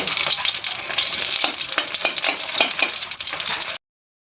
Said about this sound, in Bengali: শুকনো মরিচগুলোকে ভালো করে ভেজে উঠিয়ে নেবে